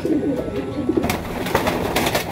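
Pigeons, including a young bird still growing its flight feathers, give close low coos in short repeated phrases, with handling rustles and scuffs around them.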